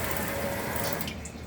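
A newly installed kitchen sink faucet runs water in a steady, loud, close hiss that continues for the whole moment, tapering slightly at the end.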